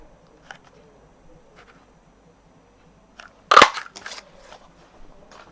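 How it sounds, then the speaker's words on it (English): A circle punch snaps through a small scrap of cardstock in one sharp, close crunch, with quiet rustling of paper before and after. "I've got the 1 3/8 of an inch circle here to stamp out, to punch out"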